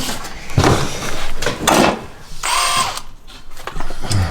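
A power drill whirs in several short bursts with pauses between them, close and fairly loud, with some clattering in the gaps.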